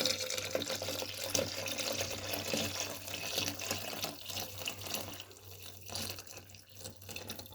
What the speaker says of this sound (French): Ensuite, je viens couvrir par l'eau jusqu'au niveau max.